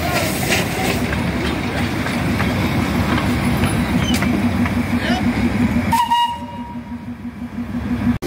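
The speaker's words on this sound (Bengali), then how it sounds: "এই সামনে আমাদের স্টিম ইঞ্জিন যাচ্ছে।" A Darjeeling heritage railway steam engine train passes close by, with a loud continuous rumble, clanking and a sustained whistle-like tone midway before it cuts off, with people talking over it.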